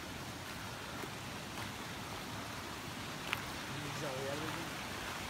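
Steady rain hisses evenly around a hiking trail, a soft, constant wash of noise with a faint voice briefly audible near the end.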